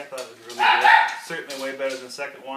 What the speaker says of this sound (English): Sorry about the dogs. They were very mad.